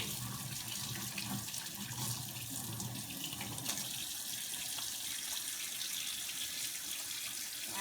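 Hands are washed under a running kitchen tap, a steady close stream of water splashing into the sink with slight shifts as the hands move, no talking.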